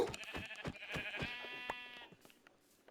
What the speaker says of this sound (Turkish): Orada bir koyun daha spamlandı.